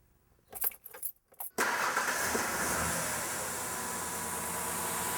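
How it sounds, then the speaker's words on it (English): Keys jangle briefly before a car engine cranks and fires, then settles into a steady, slightly uneven idle, close by with no talking. "go ahead and start the engine up"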